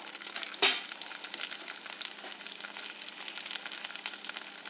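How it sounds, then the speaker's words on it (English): Cabbage rolls sautéing in coconut oil in a pan, a steady close sizzle with one sharp utensil knock early on, with no voices. "So I'm going to let it saute on each side for about 5 minutes."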